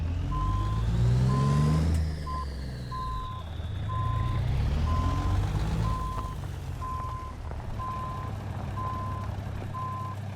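Western Star 6900 truck engine in American Truck Simulator, a steady low rumble that rises and falls as it revs, with a repeating reversing beep pulsing over it the whole time.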